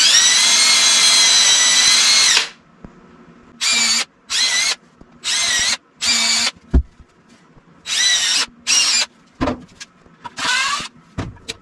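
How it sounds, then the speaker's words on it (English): A power drill whines at length, then several short bursts of drilling pilot holes into a wooden 2x4 follow with quiet gaps and a few clunks between them. "I'm going to pre-drill"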